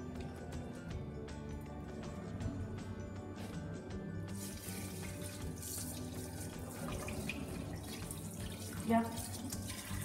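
A sink tap runs steadily, water splashing continuously into the basin; partway through the flow grows brighter and stronger, with a small clunk near the end.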